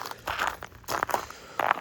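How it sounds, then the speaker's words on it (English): Boots crunching over ice during a winter storm, a few uneven steps heard close and fairly faint, with no one talking. "Bunch of ice right here. Crunch, crunch, crunch."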